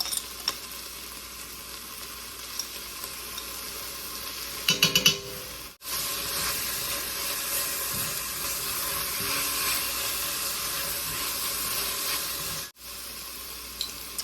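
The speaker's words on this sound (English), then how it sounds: "I'm gonna add in some minced garlic here." Minced garlic sizzling loudly in a hot pan, a steady close frying hiss with a burst of stirring clatter partway through and two brief dips in the sound.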